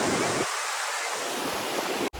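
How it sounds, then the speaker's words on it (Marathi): Ocean surf on a Goa beach roars steadily as big waves break, a continuous wash of loud noise with no voices. "लाटांचा आवाज खूप आहे आणि मोठमोठ्या लाटांचं लाटांचं आहे"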